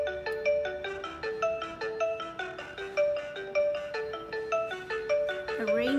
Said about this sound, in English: Okay, let's ring the doorbell.